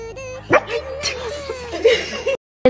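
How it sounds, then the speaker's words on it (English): A German Shepherd puppy lets out short, sharp yips and barks, with whimpering tones between them, close by over a steady background noise, before a brief silence and one last yelp. "Our new German Shepherd puppy barking for the first time and startling us."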